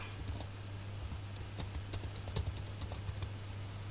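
Fingers type steadily on a computer keyboard while someone sets up router code in an Angular project, producing quiet, close clicks in irregular bursts over a low hum, with no talking.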